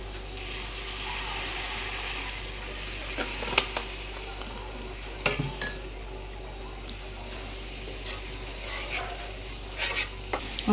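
Masala for a green egg curry sizzles steadily in a pan as a little water goes in, with continuous crackling frying, occasional utensil clinks and stirring scrapes, close and moderately loud.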